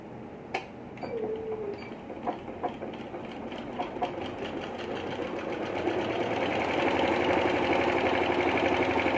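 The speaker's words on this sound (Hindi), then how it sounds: "अब आपने बाहर की तरफ पट्टी को सिलाई लगानी है।" Sewing machine running steadily while stitching the button placket on a men's kurta, a continuous close mechanical whir with rhythmic needle ticking that grows louder and denser toward the end.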